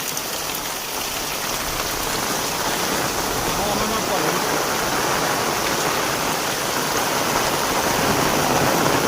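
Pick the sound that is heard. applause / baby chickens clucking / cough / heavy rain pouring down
heavy rain pouring down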